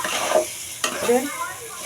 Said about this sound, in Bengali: চালটা আমি সুন্দর করে ভেজে নিব